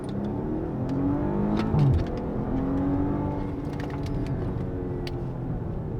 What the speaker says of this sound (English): I love the sound of the exhaust note at idle